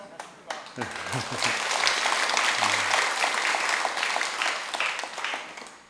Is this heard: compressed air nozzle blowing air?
no